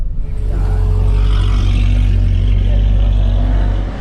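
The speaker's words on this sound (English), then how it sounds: "That car was screaming." A race car engine roars loudly and close at full throttle, a steady sustained drone that starts abruptly and holds near full volume throughout.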